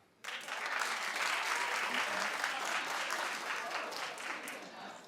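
A studio audience at a daytime talk show bursts into loud, dense clapping after a brief quiet start, a sustained close wash of many hands that holds steady to the end.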